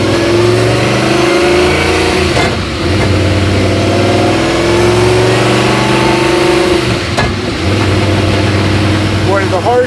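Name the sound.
Martini Mustang Fastback engine revving through harsh gear shifts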